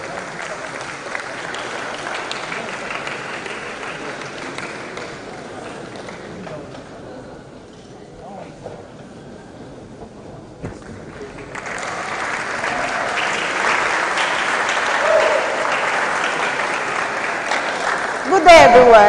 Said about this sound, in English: A round of applause for Cynthia as she steps forward.